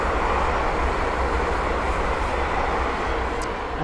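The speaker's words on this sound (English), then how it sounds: "the next train to pass by is a pair of London to Western Railway Class 350s" A pair of Class 350 electric trains rush past close by on the West Coast Main Line at Linslade, a loud continuous roar of wheels and rails holding steady throughout.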